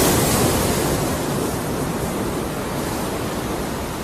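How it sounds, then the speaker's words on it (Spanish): Ocean surf breaks on a Costa Rican beach lined with mangroves and palms, a loud, continuous broadband wash of waves that roars steadily without pause or voices. "Las playas se extienden entre el mar y el manglar."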